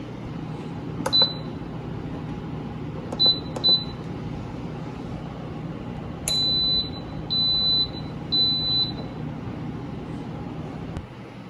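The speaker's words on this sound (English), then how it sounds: "Our timer for our potato soup has gone off." An Instant Pot electric pressure cooker cooking potato soup gives off its timer: sharp, high electronic beeps, a few single chirps followed by a series of evenly spaced longer beeps, clear and close against a quiet kitchen hum.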